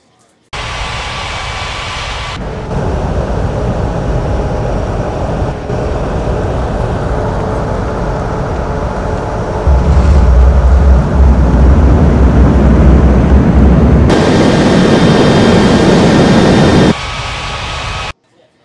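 A jet airliner lands on runway 09 at Ngurah Rai Bali International Airport, a sustained loud roar that swells and rumbles deeper midway, then holds before dropping away, with no talk over it.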